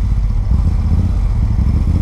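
A Moto Guzzi motorcycle with aftermarket modifications revs and accelerates, its engine a loud, close, continuous low rumble with a throbbing, pulsing texture and no voices.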